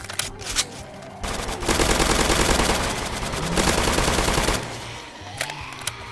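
Rapid gunfire from a hard-hitting gun in the Roblox zombie game Zombie Uprising, a loud sustained burst of shots lasting several seconds, bracketed by quieter single shots and game noise.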